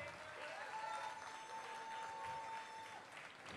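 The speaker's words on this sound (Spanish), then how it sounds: "fuerte el aplauso para este maravilloso grupo" A crowd applauds a Chilean folk music group from Carahue at a summer town festival in Contulmo, with steady, even clapping, a faint sustained tone running through it, and a voice heard briefly near the end.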